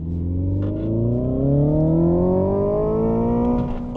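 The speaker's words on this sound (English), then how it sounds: "let's put the Engrin boost on here" A 2025 Hyundai IONIQ 5 N electric sports car accelerating hard with N Grin Boost, its synthetic engine tone climbing steadily in pitch as it pulls, loud and close from inside the cabin.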